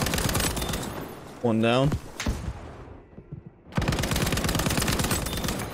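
Battlefield 5 gunfire: a dense stretch of rapid automatic shots, then a voice speaks over a brief lull before another sustained burst of rapid fire, loud and close.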